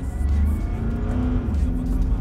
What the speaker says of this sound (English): I'm going to put my foot flat down and see what it does.